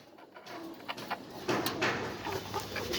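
Black Dragon breed pigeons on a farm coo nearby in soft, repeated throaty calls that overlap into a steady murmur, with no speech.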